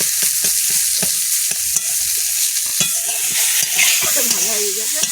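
Garlic frying in a pan for a home-cooked fish curry, steady sizzle throughout with repeated sharp scraping clicks of a stirring spoon against the pan, close and fairly loud, no talking.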